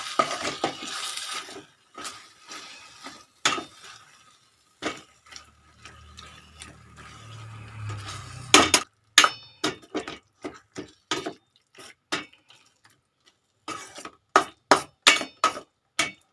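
Marinated pork stir-fried in a pan with a little water: a quiet stretch of low sizzling, then a series of sharp, irregular metallic taps and scrapes from a spatula against the pan, close and fairly crisp.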